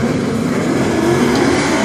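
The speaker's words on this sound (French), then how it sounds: "2 par 2 maintenant avec les deux BMW à moteur 8 cylindres que nous avons en action ici" Two BMW drift cars with V8 engines roar together at a drift show, their engines droning loud and continuous at close range with no pause.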